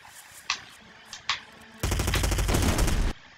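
Silenced SMG fire in the video game Hitman: Blood Money: two sharp suppressed shots spaced apart, then a loud sustained rapid burst lasting over a second, close and dense.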